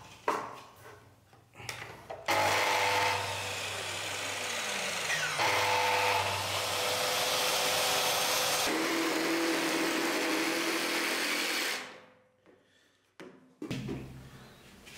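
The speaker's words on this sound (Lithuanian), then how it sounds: "Su pjūklu pjaunam, kur atsižymėja viršų" A power saw cuts interior door trim during door installation, a steady, close whine lasting about ten seconds that shifts pitch partway through, with brief handling clatter before and after.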